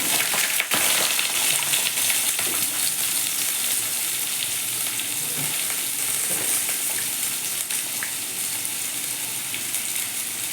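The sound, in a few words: potatoes frying in mixed mustard and white oil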